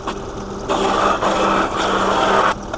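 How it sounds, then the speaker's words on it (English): A wood planer runs on repurposed pallet wood for a kitchen toe kick, a loud motor whine that jumps into a harsh cutting roar as the board feeds through, then drops back to idle. "So I'm going to try and do this on the planer first"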